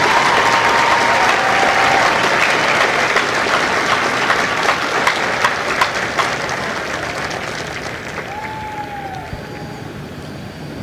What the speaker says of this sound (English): Ladies and gentlemen, please join me in a round of applause for the company staff of Company A.